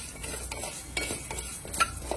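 Coriander seeds and spices roast in hot oil in a pan, giving a soft, steady crackle with scraping stir strokes and a few sharper pops; no voices.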